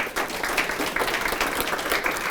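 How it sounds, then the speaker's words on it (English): Dense, sustained applause from an audience honouring a discussion panel, loud and continuous, with no voices over it. "All right, another round of applause for our distinguished panel."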